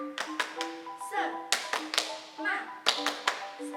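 Third-grade classroom claps out a rhythmic 'tepuk semangat' chant led by a teacher, sharp grouped hand claps in short patterned bursts with brief pauses, while children's and adult voices chant along between the claps.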